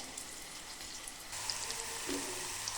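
A paste of ginger, garlic and coriander fries in a pan with a steady, dense crackling sizzle that grows louder partway through.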